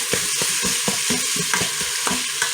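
Chopped sausage sizzles and fries in an Instant Pot, a steady crackling hiss broken by regular scraping stirs, close and fairly loud.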